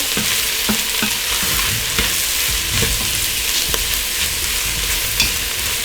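Spicy rice fries in hot oil in a pan, giving a loud, dense sizzle throughout, broken by scraping taps and clicks as a utensil stirs and mixes the grains.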